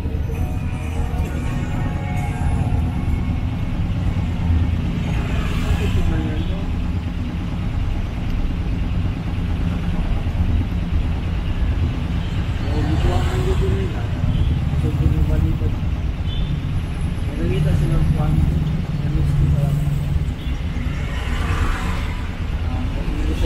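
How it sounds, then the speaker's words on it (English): Road traffic on A.S. Fortuna in Cebu City, heard from inside a jeepney: a steady engine rumble and idling vehicles, with occasional passing swells and voices talking throughout. "So this is AS Fortuna traffic now I'm experiencing"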